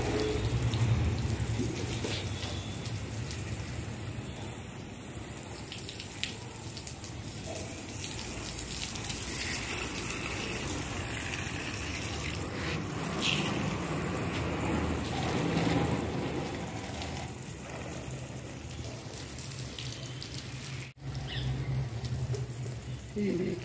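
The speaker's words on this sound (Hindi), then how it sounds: "ये देखिए पानी दे लें पौधों को" Steady water running and splashing while plants are watered in hot summer weather, a continuous close gush with faint background noise throughout.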